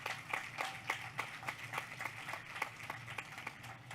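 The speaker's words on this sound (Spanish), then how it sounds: "Un fuerte aplauso para Patricia Guerrero." An audience at an education panel in Chile claps, a faint, distant scatter of individual claps spaced out at a fairly steady rhythm.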